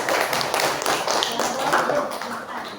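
Classmates in a classroom give a short round of clapping during a micro-teaching lesson, steady dense claps lasting a few seconds with voices talking over them.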